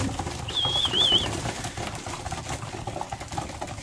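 Young pigeons in a loft giving a brief soft coo and a warbling call early on, over faint shuffling and low background rumble, with no talk.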